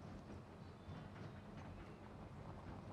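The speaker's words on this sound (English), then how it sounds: "The train is here." A train in Farming Simulator 25 rumbles steadily with a faint clickety-clack, a quiet continuous rolling sound with no voices over it.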